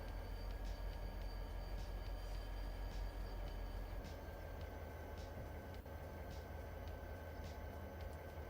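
A train rolls along in the Farming Simulator 25 video game, a steady rumbling drone with regular faint clacks from the wheels, continuous and moderately loud with no talking.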